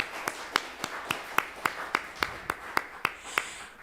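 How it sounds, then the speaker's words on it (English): Audience applause for a church service band of piano, bass and drums at Unity of Santa Barbara: a steady run of about a dozen sharp, evenly spaced claps, moderately close and fairly thin, with no talking over them. "Let's give them a round of applause"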